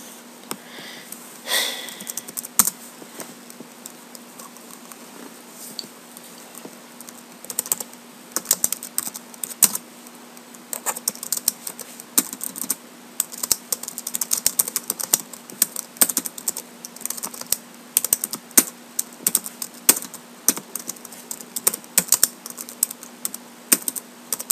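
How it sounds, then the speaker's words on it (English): Rapid, uneven keystrokes clatter on a computer keyboard during a Pokémon Red speedrun, close and continuous for over twenty seconds with bursts and short pauses, accompanied by a steady background hum and no talking. "I was typing stuff"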